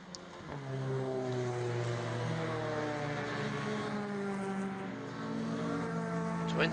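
Race cars on a warm-up lap of a two-hour endurance race drone past at a distance, several engines layering into a steady moderate hum with shifting tones.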